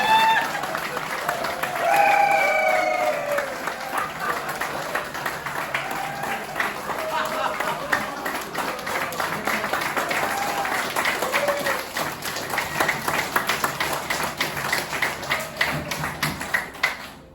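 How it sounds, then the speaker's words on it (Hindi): An audience in a session hall breaks into sustained applause, a dense, steady patter of many hands that carries on for well over ten seconds, with a speaker's voice briefly heard over it at the start. "जोरदार ताली हो जाए आपके लिए।"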